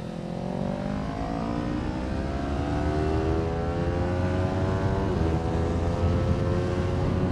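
A Kawasaki Ninja 400 sportbike engine drones loudly and continuously on a race track, its pitch climbing steadily under throttle with a brief dip around a shift, close to the rider.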